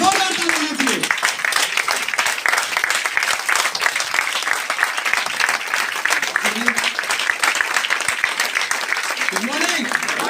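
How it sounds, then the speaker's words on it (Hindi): Loud, sustained audience applause welcoming a speaker at a product training and business plan event, dense rapid clapping throughout with a few brief voices rising over it. "जोरदार ताली दीजिए"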